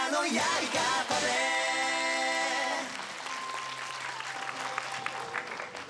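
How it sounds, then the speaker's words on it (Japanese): A large audience at a Japanese anime film premiere applauds steadily, a broad continuous wash of clapping; musical tones ring through the first half and fade as the applause carries on alone. "皆様今一度大きな拍手でお迎えください"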